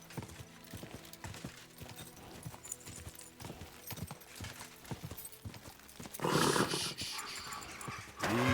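A horse gallops in the medieval video game Kingdom Come: Deliverance II, with rhythmic clip-clop hoofbeats up close, then a louder rushing noise in the final seconds.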